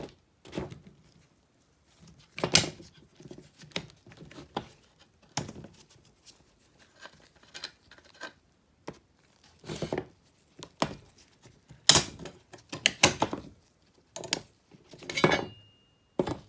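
Bolts being loosened and removed with a 13 mm wrench while replacing an intercooler pump on an STS-V, heard as sparse, close metallic ratcheting clicks and clanks in short bursts separated by quiet gaps.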